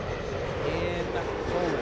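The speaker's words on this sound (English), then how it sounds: "That plane right there, the one you see taxiing to the north, that's Lot 22 flying to Warsaw" A LOT Polish Airlines airliner bound for Warsaw taxis at LAX, giving a steady, broad engine roar that holds evenly throughout, close and loud with no pauses.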